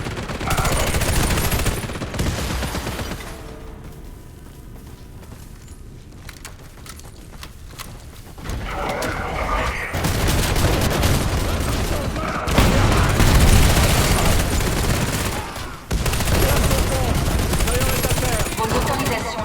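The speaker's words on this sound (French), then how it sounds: "Les tourelles colons peuvent vous abattre d'un seul coup." Turret gunfire in the shooter game Warface, loud bursts of rapid automatic fire and booms in stretches, broken by quieter gaps, with game voice lines over it.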